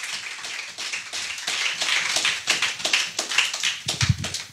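Church congregation clapping in praise of the Lord during a healing service, a dense run of quick overlapping handclaps with rhythmic accents, steady and fairly loud throughout, with a heavier thump near the end.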